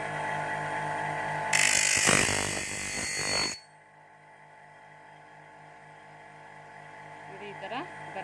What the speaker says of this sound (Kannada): ಹಾಗೆ ಮಿಷಿನ್ ಸೌಂಡ್ ನೋಡಿ ಯಾವ ಥರ ಬರುತ್ತೆ ಅಂತ